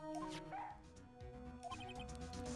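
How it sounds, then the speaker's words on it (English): Barking from Missile, a K9 police dog in training in the Phoenix Wright Ace Attorney game: several quick, bright yips and woofs in succession over game music, fairly quiet overall. "He's a K9 police dog, still in training."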